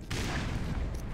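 Grenade explosion in the video game Black Mesa, a single loud, dense boom that starts abruptly and rumbles broadly for about a second, close and alone.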